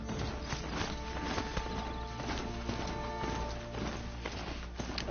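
Horse hooves clip-clop in the Horizon Zero Dawn video game, a brisk steady run of overlapping hoofbeats at walking or trotting pace over a continuous game soundscape, fairly loud and with no talk.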